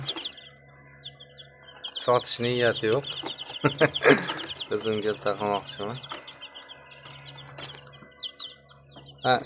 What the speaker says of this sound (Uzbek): Mana jo'jalarimiz 5 kunlik bo'ldi